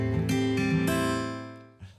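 Electric guitar hammer-on phrase: a few close notes, some picked and some sounded by fretting alone, ringing together and then decaying into a soft tail, up close with no voices.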